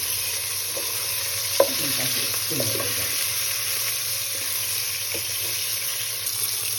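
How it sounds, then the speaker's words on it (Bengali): Pieces of katla fish fry in oil in a kadai, giving a steady close sizzle with a few scraping turns and stirs early on, and no talking. "আর মাছটা ভাজার সময় কড়াইয়ে দেওয়ার পরই একটু উল্টিয়ে দিলে মাছগুলো লাগবে না"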